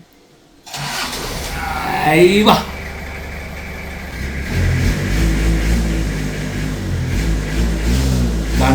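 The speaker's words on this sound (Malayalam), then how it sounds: "നമുക്കിതൊന്ന് സ്റ്റാർട്ടാക്കി നോക്കാം ആ എന്താ ഇതിൻ്റെ എഞ്ചിൻ ശബ്ദം" An engine cranks and catches after a brief voice, then settles into a steady, loud, rhythmic idle with low thudding pulses that continue to the end.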